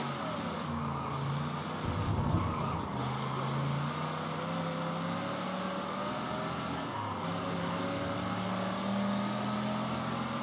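Car engine in Mafia 3 roaring and revving continuously at speed, with shifting pitch as it accelerates and a brief harsher burst around the middle, close and loud throughout with no talking.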